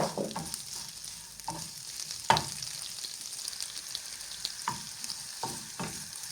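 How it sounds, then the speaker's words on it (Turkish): Steady sizzling of peppers frying in a pan, with a few stirring scrapes and clinks; no voices. "Şöyle birazcık kavurduktan sonra biberimizi döküyoruz."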